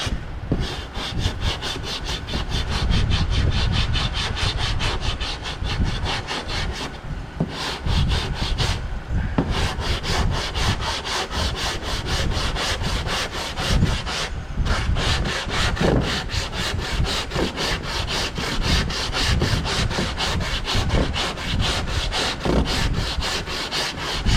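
Body filler on car bodywork being sanded and blended out by hand, a steady close scratching rub in long repeated strokes with a few brief pauses, no voices.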